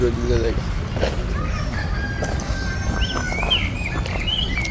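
A rooster crows in a park, Parco Querini in Italy, on an afternoon; the crow rises near the start, then faint bird chirps carry over steady background murmur and nearby voices talking.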